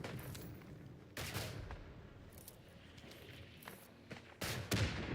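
An artillery barrage in the WWI video game Isonzo, with a series of sharp distant blasts and cracks in irregular bursts over a low rumbling battlefield, fairly faint overall.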